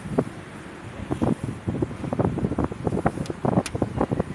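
Wind rushes and buffets steadily throughout, with gusty broadband rumble rising and falling in irregular surges, while a heart-shaped kite flies aloft.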